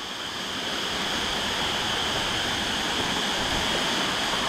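A waterfall on the Netravati trek in the Western Ghats hisses and roars in a steady, dense rush of falling water. The sound stays loud and unbroken throughout, with no voices.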